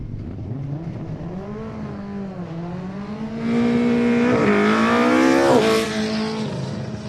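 Mazda MX-5 at a hillclimb, its engine revving loud and near, rising through gears with a sharp surge of revs in the middle before easing off.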